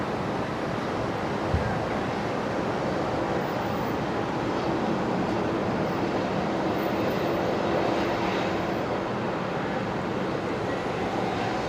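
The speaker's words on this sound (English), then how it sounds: "The Qantas Link Embraer." A QantasLink Embraer jet departing Brisbane Airport at twilight, producing a sustained, rushing engine roar mixed with wind noise that stays broad and steady throughout.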